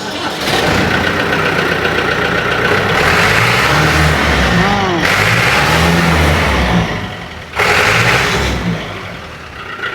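An old tractor with a German-made diesel pump chugs and revs steadily nearby, briefly dropping off before roaring back, with voices faintly audible underneath.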